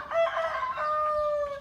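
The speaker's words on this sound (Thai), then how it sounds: "เสียงไก่ขันฮะยังมีกึกก้อง" A single rooster on a village roof in Chaiyaphum, Thailand crows once, a loud, close, drawn-out call that holds its pitch for over a second and fills the whole moment alone.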